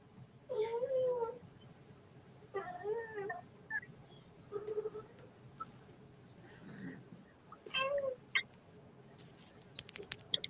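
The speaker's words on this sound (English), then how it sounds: "I can hear a cat." A pet cat meows several times in short, wavering calls, fairly close and moderately loud, with quiet pauses between them and faint background noise.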